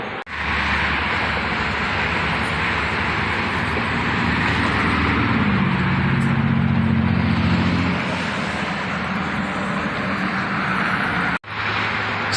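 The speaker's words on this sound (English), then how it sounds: "You can hear the cars right there in Washington." Heavy, steady traffic roars along Washington Boulevard, the main road in Ogden, as a continuous close wash of passing vehicles, with a deeper engine note swelling midway and a sudden brief drop near the end.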